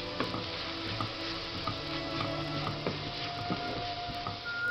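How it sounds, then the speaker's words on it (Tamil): Ginger garlic paste sautéing in a pan for a quail curry, a steady sizzle with the scrape and clink of stirring scattered throughout, close and with no voices. "இஞ்சி பூண்டு பேஸ்ட் போட்டு நல்லா பச்சை வாசனை போகுது வரைக்கும் வதக்கும்"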